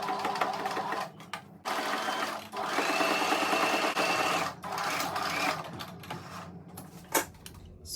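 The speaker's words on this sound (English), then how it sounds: "take it to your sewing machine and stitch it down right from the band to this side" A sewing machine stitching fabric for a turban band runs in steady bursts of rapid mechanical stitching, stopping briefly between runs, close and clear with no talking.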